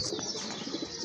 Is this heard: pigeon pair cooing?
yes